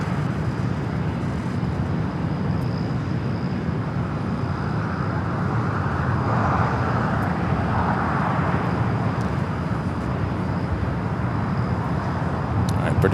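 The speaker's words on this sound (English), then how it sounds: "British Airways A380 Super about to make that right-hand turn onto taxiway Kilo" A British Airways Airbus A380 taxis toward taxiway Kilo at Los Angeles airport, giving off a loud, steady engine rumble and roar that holds throughout.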